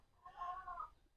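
A single farm chicken lets out one short, fairly faint cluck, alone against quiet farmyard background.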